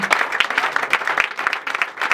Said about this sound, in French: On va acclamer pour Jésus.